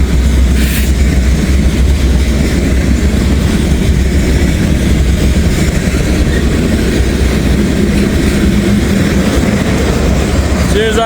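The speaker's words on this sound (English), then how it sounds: "That's a pretty locomotive." Train hauled by a locomotive passing steadily on a fast line in Carlisle, a constant loud rumble of rolling wagons and wheels throughout, close by, with a voice briefly heard.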